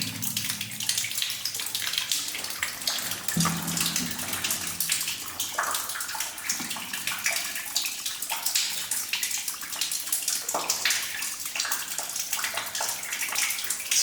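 Continuous close trickling and splashing water from a spring inside an abandoned mine, bright and hissy, with occasional soft drips and gurgles.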